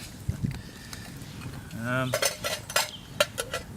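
Metal clinks and clanks as a kettle is handled, a few sharp knocks and scrapes up close, with a brief hum partway through.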